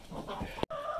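Chickens clucking around their laying boxes in a farm coop, a few soft, close clucks and short calls without any talking.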